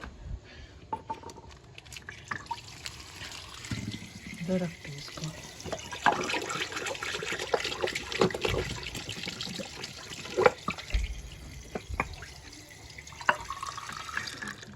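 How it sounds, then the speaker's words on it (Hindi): Running tap water splashes as a cup is rinsed in a kitchen sink, a steady close trickle with clinks, while someone talks over it. "कप हंगालना पड़ेगा। इधर से उठाती कप हंगालती"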